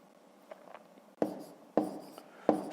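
Pen scratching out numbers on paper while working a decimal subtraction problem: soft scribbles, then three sharper strokes and taps at regular intervals, close and alone with no talk.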